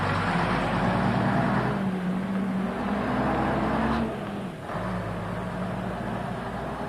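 Alexander-bodied Leyland Atlantean dual-door buses of Portsmouth City Transport idling and pulling away, a steady diesel drone that shifts pitch and dips briefly, fairly close with traffic around.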